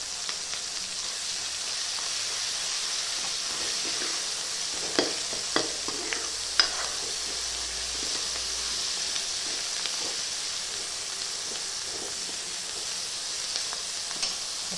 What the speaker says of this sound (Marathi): त्याच्यामध्ये आता कोथिंबीर टाकते.